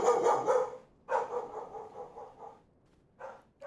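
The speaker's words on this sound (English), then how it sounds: "doggo barking" A dog barks in a video game in loud, close bursts, a cluster of rapid barks followed by a longer bark and a short final yip, with quiet gaps between.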